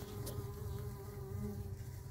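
Bees hum and buzz in a steady drone close by, several insects clustered on craisins blending into one continuous buzz.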